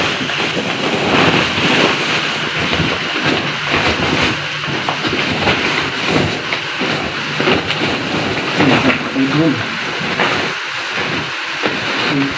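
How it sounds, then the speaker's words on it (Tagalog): Rain begins to fall outdoors in a steady, rushing patter mixed with low rumbling noise, fairly loud and continuous for about twelve seconds. "Bubus na rin yung ulan."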